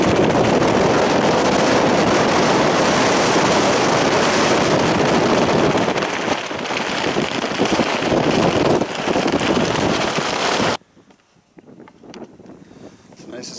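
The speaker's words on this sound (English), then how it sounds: "Gonna get windy really quick here." Strong wind roars and buffets across an Appalachian Trail mountain path in Virginia as the weather worsens. Loud, continuous gusting for about eleven seconds, then it drops suddenly to a much quieter rustle.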